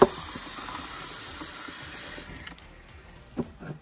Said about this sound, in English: I'm going to add one of these quart jars of water